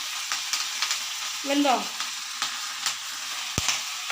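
Food frying in a pan crackles and pops steadily with scattered sharp bursts, a brief murmured word partway through.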